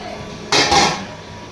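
A single brief metallic clatter as a cooking pot lid is set on a pot in a home kitchen, loud and close, ringing shortly before fading.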